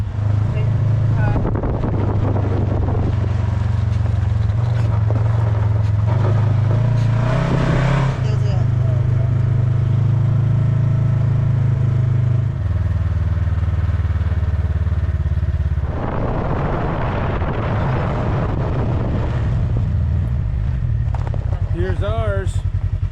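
On the back roads near Wheeler Pass in Southern Nevada, motorcycles ride off with engines revving up and pulling away under buffeting wind noise, and voices are heard talking later.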